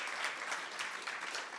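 Audience applauding steadily at a town hall gathering after a hymn, a dense continuous wash of hand claps with no pauses.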